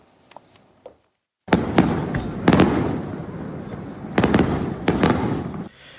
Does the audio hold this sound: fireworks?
yes